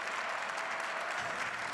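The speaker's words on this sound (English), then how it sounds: "you hear the applause there at the New York Stock Exchange" A crowd claps continuously at the New York Stock Exchange, a dense and steady wash of applause heard from a moderate distance.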